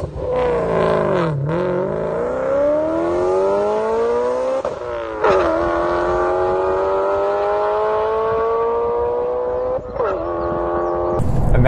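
BMW E92 M3 engine revving hard, rising in pitch through long sweeps with brief drops between shifts, loud and close throughout with no talk over it.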